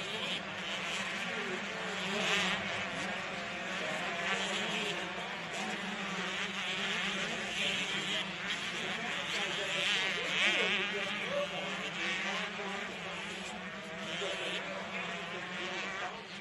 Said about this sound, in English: The sweet sound of two strokes filling the air.